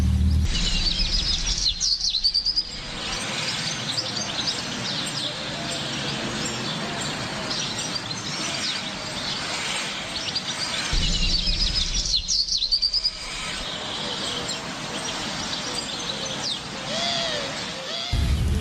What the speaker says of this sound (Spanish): Ya te dije varias veces que es un pájaro.